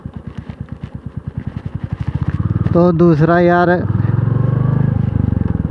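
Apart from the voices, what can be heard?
motorcycle riding on a road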